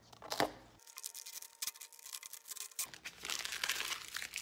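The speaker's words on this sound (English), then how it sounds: "we're actually gonna peel this vinyl right off" A vinyl stencil sheet is peeled off a painted canvas, giving close crackling and crinkling sounds with sticky tearing, one sharp rip and a longer rustling peel toward the end.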